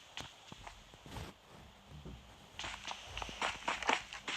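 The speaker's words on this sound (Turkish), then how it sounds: "Ayak sesi." Footsteps in the mobile game PUBG Mobile, a quick run of soft thuds, fainter at first, then louder and closer in a dense burst toward the end.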